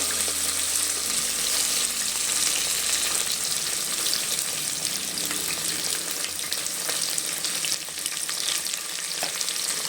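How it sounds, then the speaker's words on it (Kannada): Sliced onions fry in a pan with a loud, steady, dense sizzle that runs unbroken from start to finish. "ಈರುಳ್ಳಿ ಹಾಕ್ಕೊಂಡು ಫ್ರೈ ಮಾಡ್ಕೊಳ್ಳೋಣ ಚೆನ್ನಾಗಿ, ಗೋಲ್ಡನ್ ಕಲರ್ ಬರೋ ತನಕ"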